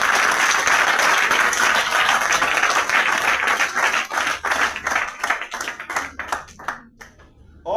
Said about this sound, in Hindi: तो एक बार तालियां अपने लिए बजाना है।